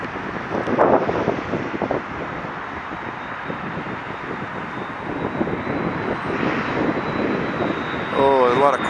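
An Air Algerie Airbus A330 lands in a strong crosswind at Montreal, its engines producing a steady roar that is partly masked by wind buffeting the microphone, while people talk excitedly nearby.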